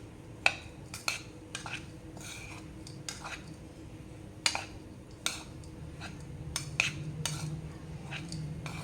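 A spoon scrapes and knocks against a metal pan while crushed peanuts are stirred into sabudana khichdi, with sharp intermittent clinks over a low steady background hum.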